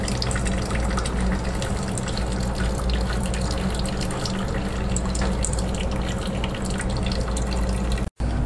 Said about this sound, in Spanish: Al aflojar las tuercas que lleva el termo, el agua irá fluyendo